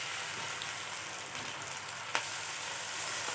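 Onions frying in hot oil with garlic ginger paste, a dense, steady sizzle close up with one brief sharp clink of a utensil partway through.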